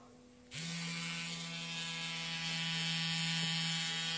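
An electric razor switches on and keeps running with a steady, loud buzzing hum throughout, alone without talk.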